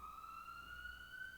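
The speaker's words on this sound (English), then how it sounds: "ambulance siren" A synthesized ambulance siren sample panning slightly in a music production mix, a steady rising tone with harmonics holding continuously over a faint low rumble.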